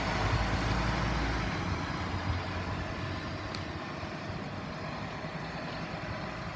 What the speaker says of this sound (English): That's the new engine.